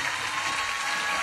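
Audience cheering and applauding at a celebrity singing game show, a steady wash of loud clapping filling the whole brief moment.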